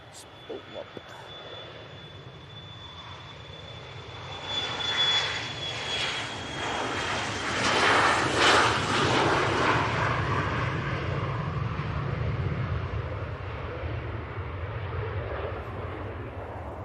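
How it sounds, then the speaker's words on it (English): An Emirates Airbus A380 lands at Manchester Airport. Its engines make a broad, rising roar that swells to a peak mid-way and then rumbles on steadily at a distance. Someone talks quietly now and then over the noise. "That's just touching down behind the bizjet there. The Emirates A380."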